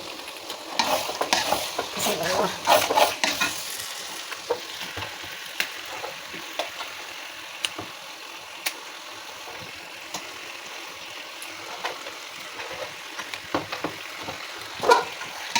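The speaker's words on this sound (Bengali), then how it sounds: "এবার হচ্ছে মশলা দিয়ে মাংসগুলো কষিয়ে নেব।" Meat fries with biryani masala in a pot, a steady low sizzle with frequent stirring scrapes and clinks, busier at first, then quieter with sporadic taps.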